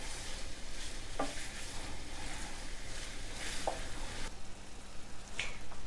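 Beef and Italian sausage brown in a pan with a steady sizzle, while a utensil scrapes and stirs now and then, close up and with no speech.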